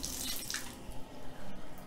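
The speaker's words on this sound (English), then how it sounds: "let's turn the water on and see how well this does" A handheld shower head lets out a brief burst of running water, a hissing, splashing gush that rises and falls unevenly over a couple of seconds.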